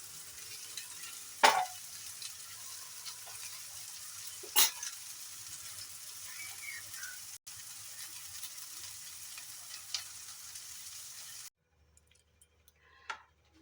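White sesame fritters frying in oil make a steady, soft hiss with a couple of brief sharper crackles, close but quiet, before the sound stops near the end.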